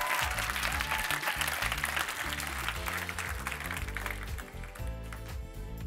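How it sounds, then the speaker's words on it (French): Loud audience applause fills an improv match, with continuous clapping over a background of music, sustained throughout. "j'aimerais ça qu'on leur donne une bonne main d'applaudissement"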